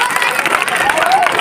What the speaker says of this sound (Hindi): बहुत जोरदार तालियां बजाइए।